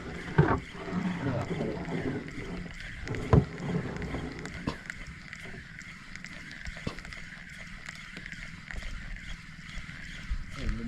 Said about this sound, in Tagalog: Lumalakad ng bangka.